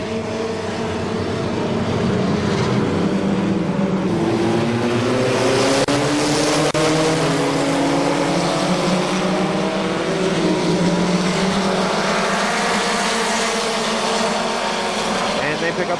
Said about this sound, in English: We're racing 6 laps for the mini stocks.